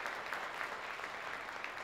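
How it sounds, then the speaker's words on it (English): Audience applause at the Eleventh Annual MWBE Forum in New York State, a faint, distant, even wash of clapping from a large room, steady and unbroken for a couple of seconds. "Let's just give that a round of applause"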